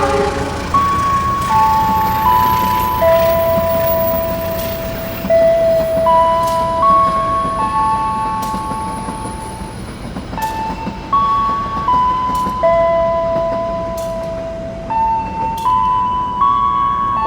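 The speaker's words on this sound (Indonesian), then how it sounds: "itu dia Harina melintas langsung stasiun Cirebon Perujakan" The Harina passenger train runs straight through Cirebon Prujakan station with a loud, continuous rumble of wheels and carriages, overlaid by repeated shifting horn-like tones sounding across the passage.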